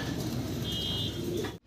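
Pigeons at a breeder's collection give a brief, close, throaty coo and soft murmuring, with low continuous bird noise around it.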